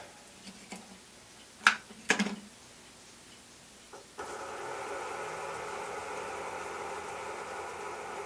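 A wood lathe turning Manitoba maple runs fast at about 400 RPM, settling into a steady, even whir after a few brief clicks and knocks at the start.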